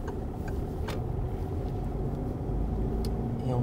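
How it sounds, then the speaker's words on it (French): A car pulls away in first gear during a French driving lesson, its engine a steady low rumble from inside the cabin with a slight rise in revs and occasional faint clicks. "On prend l'embrayage, on met la une. Et on repart tranquillement."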